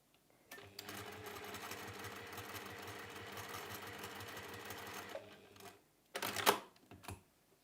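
A sewing machine runs a tacking stitch holding folded fabric triangles in place for a pinwheel cushion cover, a steady fast whirring drone for several seconds, then stopping, followed by a couple of short handling clatters.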